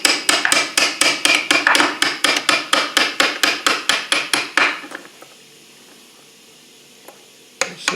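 A hammer raps a gearbox selector on its shaft during a Land Rover Defender LT85 rebuild: a fast, even run of sharp metallic taps close by, then it stops into near quiet, with a single clank near the end.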